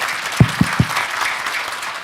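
An audience at a policy forum applauds to welcome a speaker, a wash of clapping with a few sharper nearby claps standing out in the first second.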